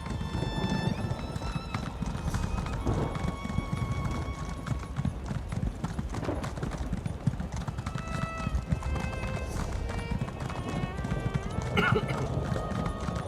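Horse hooves clip-clop steadily at a riding pace in the video game ESO, with occasional whinnies, over continuous game music and ambience with some speech.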